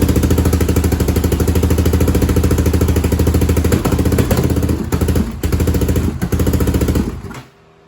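A 2005 Yamaha Raptor 660R ATV engine runs loud and steady with a rapid, rough pulsing beat, dips and surges a few times near the end, then cuts off abruptly.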